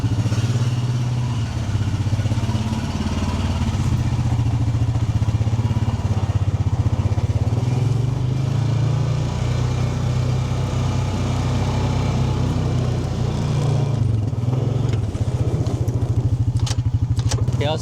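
Honda Pioneer 520 UTV engine running steadily while backing up, a close low rumbling drone with some clatter, ending in a few light knocks near the finish.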